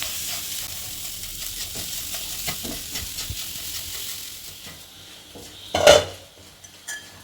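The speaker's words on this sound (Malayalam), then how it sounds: "ഇനി തേങ്ങയും കൂടി ഇട്ട് കഴിഞ്ഞിട്ട് നന്നായിട്ട് വറുത്തെടുക്കണം" Coconut fries in a pan for mushroom curry, a steady close sizzle with the scrape of a stirring spoon and one sharp metal clank near the end, no voices.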